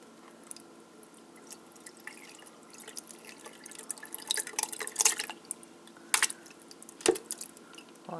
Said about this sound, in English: So I've put the sieve, the filter, into the other container, the white one, and I'm just going to tip it through.